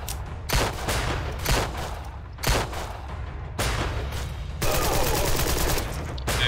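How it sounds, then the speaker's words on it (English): Suppressive gunfire in the video game Empire of Sin: dense bursts of shots and volleys repeat throughout, loud and close, with rapid automatic fire building toward the end. "Suppressive fire should have stopped."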